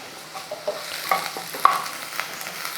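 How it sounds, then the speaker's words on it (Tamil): Curry leaves dropped into onions and garlic sautéing in hot oil, giving a steady close sizzle with a few sharper crackles and light stirring scrapes, no voices. "வெங்காயம் பூண்டுலாம் வந்து நல்லா வதங்கிடுச்சு இப்போ வந்து கருவேப்பிலை கொஞ்சம் சேர்த்துக்கிறேன்"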